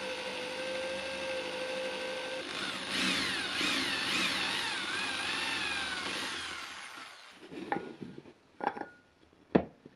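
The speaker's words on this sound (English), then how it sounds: "Next is just drilling a center hole for the pin to go through." A power drill boring a center hole in wood for a pin while building a large DIY book press, a steady whirring grind for several seconds that winds down into a few short knocks and clunks.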